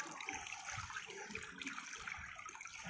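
Water spills from cupped hands into a pool like a small waterfall, a faint, continuous splashing trickle with soft bubbling.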